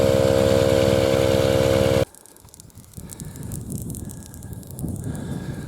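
An air pump inflates a punctured motorcycle tyre in the Australian outback, giving a loud, steady, buzzing drone that cuts off abruptly after about two seconds and leaves quieter outdoor noise.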